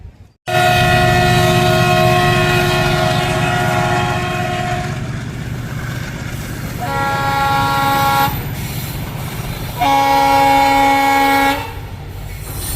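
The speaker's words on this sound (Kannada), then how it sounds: "ನಮ್ಮ ಟ್ರೈನ್ ಈಗ ಪ್ಲಾಟ್ಫಾರ್ಮ್ ನಂಬರ್ 2ಕ್ಕೆ." The Sindhanur Express pulls into platform 2 at Ballari Cantonment, sounding its horn in three loud, sustained blasts over the low rumble of the moving train on a busy station platform.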